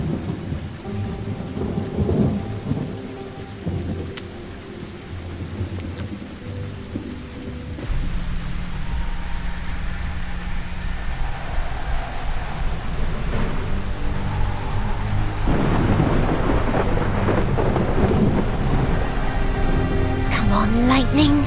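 A thunderstorm with heavy rain in the video game The Perils of Man, rain hissing steadily while thunder rumbles and cracks, growing louder and denser after the first few seconds.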